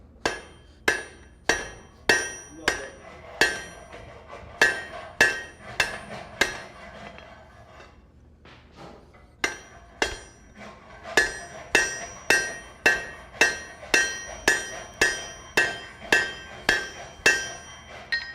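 A hammer strikes a chisel over and over, with sharp ringing metallic blows in a fast, even rhythm. The hits are close and loud, with a short pause midway before the steady striking resumes.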